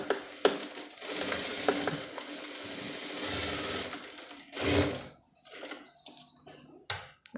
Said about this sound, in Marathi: इथं मी परत थोडंसं एका साईडला अजून एक थोडी टिप मारणार आहे।